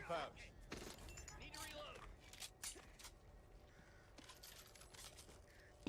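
Crows caw harshly a few times in a video game amid clicks and brief crashes, with voices talking over the bird calls.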